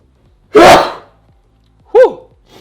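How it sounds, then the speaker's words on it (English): A person lets out one loud, sharp sneeze in a quiet room, followed by a shorter voiced exclamation a moment later. "Hang on, I gotta sneeze."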